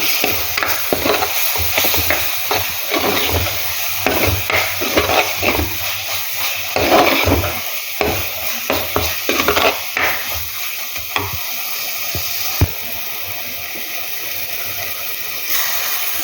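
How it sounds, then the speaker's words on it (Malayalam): A spoon scrapes and stirs roasted ground coconut into a Kerala fish curry in a sizzling pan, irregular strokes over a steady frying hiss. "ഇതിലേക്ക് നേരത്തെ വറുത്തരച്ച് വെച്ചിട്ടുള്ള നാളികേരം ചേർത്ത് നന്നായിട്ടൊന്ന് മിക്സ് ചെയ്യാം"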